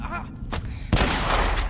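A single loud shotgun blast from The Last of Us, booming in suddenly after a quieter stretch of ambient game sound and ringing on to the end.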